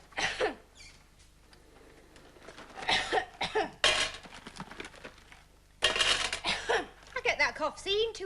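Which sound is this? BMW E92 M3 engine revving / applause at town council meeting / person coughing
person coughing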